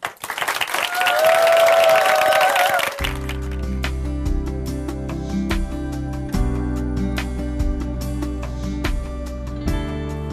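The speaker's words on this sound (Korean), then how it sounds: "큰 박수로 모시겠습니다" Loud crowd applause at a church gathering for a few seconds, then it gives way to music with a steady beat.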